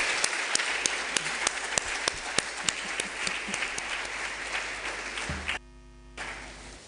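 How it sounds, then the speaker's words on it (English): Audience at a foundation's evening programme claps together, a broad steady applause with a few sharp individual claps, fading out and ending abruptly in low hum. "Another round of applause."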